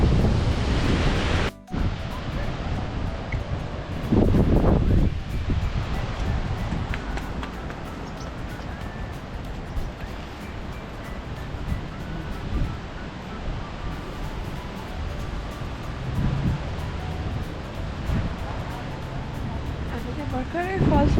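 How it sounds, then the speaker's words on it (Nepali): Water pouring over the falls at Falls Park in Sioux Falls makes a steady, broadband rush under gusty wind buffeting, with a louder surge near the start. "यताबाट पानी बगिरहेछ।"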